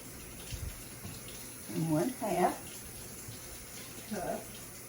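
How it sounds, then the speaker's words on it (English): Warm water runs from a kitchen tap into a sink in short bursts, splashing faintly under a low background hum. "So I'll go to the sink and I will get warm water."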